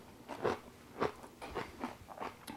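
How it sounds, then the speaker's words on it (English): Crunchy bites into fresh homemade sauerkraut, heard close up as a series of crisp, crackling crunches spaced roughly half a second apart, with chewing between them and no talking. "Fresh sauerkraut is nothing like the canned stuff. It's crunchy, as you can hear."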